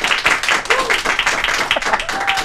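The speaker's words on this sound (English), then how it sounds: "Not everyone's clapping just from the get-go." Studio audience on a local talk show applauds arriving guests with lively, fairly loud clapping that stays steady for a couple of seconds, with some voices mixed in.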